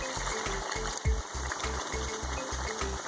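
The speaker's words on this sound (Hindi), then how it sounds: "थोड़ा सा पानी है, ये हम इसके अंदर अब ऐड कर देंगे" Water poured into a pan of chicken keema with peas, a steady watery gush and sizzle running continuously under a regular low thumping pulse in the background.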